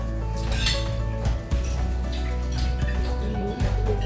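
Cutlery clinking and scraping against a plate as food is cut at a dinner table, with close, irregular metallic taps and a low hum beneath.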